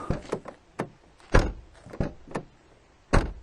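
Rear door of a 2000 Mercedes E280 W210 being handled: a series of solid thunks and latch clicks, some heavy, spaced irregularly and heard close up with no talking.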